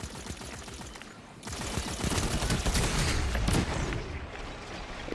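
Heavy suppressive gunfire in a video game battle at the Dead Cliffs, dense continuous rattling fusillades of automatic weapons with distant booms, loud and sustained.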